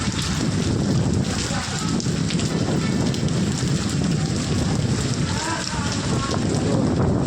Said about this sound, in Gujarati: વરસાદ જોરદાર ચાલુ હોય જો